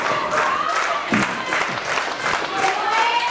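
Wrestling event crowd cheering and applauding steadily throughout, a dense wash of clapping and shouts with a commentator talking over it.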